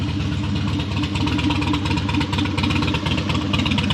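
A Harley-Davidson Dyna motorcycle engine runs steadily at idle, a loud, close, continuous rumbling throb with a lumpy low pulse and no speech.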